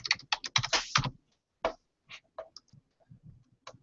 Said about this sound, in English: We type this in.